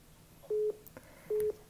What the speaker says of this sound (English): You get a little beep letting you know you have another call coming through